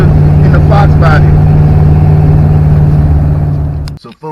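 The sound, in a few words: Foxbody Mustang with automatic transmission doing the AOD Shuffle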